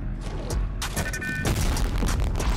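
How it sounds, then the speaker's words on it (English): A shockwave grenade detonating in Fortnite, a booming burst with crashing debris and rumbling amid busy game noise, close and loud. "Like, shockwave grenade."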